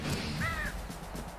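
A single crow caw rises briefly over a steady, low in-game ambience in the dark fantasy video game Slain: Back from Hell.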